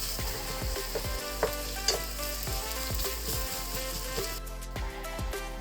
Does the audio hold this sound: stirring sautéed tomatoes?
yes